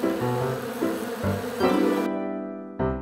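Honey bees buzz in a humming, droning tone that shifts pitch in steps and cuts off abruptly before a short final buzz.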